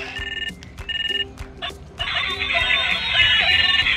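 A toy mobile phone with number keys powers on with chirpy electronic tones, two repeated trilling ring bursts, a few beeps and then a bright, steady jingle that runs to the end.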